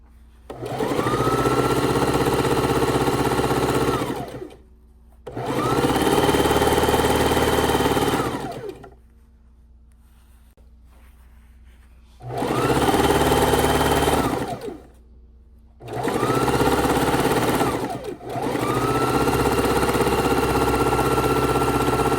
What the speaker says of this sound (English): We're going to sew all of these together to make one long continuous piece